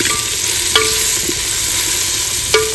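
Onions and tomatoes stirred in a clay pot for village-style chicken, a steady loud sizzle with two sharp scraping clinks of the spoon against the pot.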